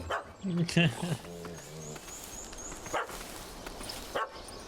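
A dog barks in The Witcher 3: Wild Hunt, Heart of Stone expansion: a short burst of close, sharp barks and yips near the start, then quieter background ambience with a few faint later sounds.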